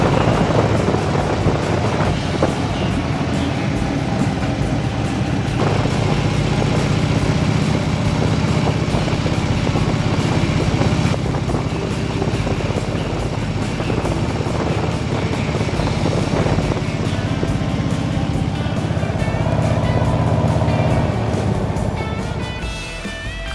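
A motorcycle cruising on the road through Live Oak, its engine droning steadily with constant wind rush and road roar, loud and continuous with slight shifts in pitch.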